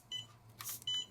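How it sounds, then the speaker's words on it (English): A Flysky FS-MG7 radio transmitter gives two short, faint electronic beeps as its channels are switched, separated by a brief rustle of handling. "Every channel switch has a beep, and I don't think there's a way to turn it off."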